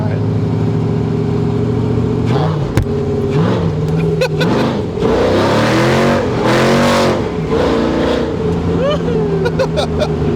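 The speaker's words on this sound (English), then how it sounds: "when I do burnouts, shoots the smoke just goes shooting everywhere" A backyard-built 1970 Chevrolet Nova hot rod revs loud and close during a burnout, its engine surging and dropping in repeated bursts with a brief sharp crack partway through.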